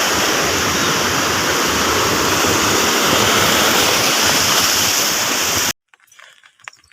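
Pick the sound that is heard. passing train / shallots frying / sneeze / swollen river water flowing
swollen river water flowing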